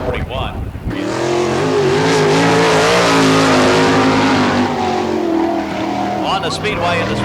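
Sprint car at the Barberville speedway during Florida Speedweek, engine roaring loud and steady as it runs a lap close by, a track announcer talking over the noise.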